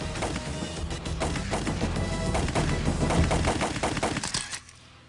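Rapid gunfire crackles during special forces shooting practice, dense overlapping bursts of shots that build and then cut off near the end, leaving quiet.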